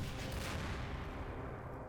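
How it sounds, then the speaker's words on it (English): In Garry's Mod, a white phosphorus rocket explosion lands as a deep, rumbling boom with a sustained roar and crackle, loud and full, slowly fading over about two seconds. "The WP rocket."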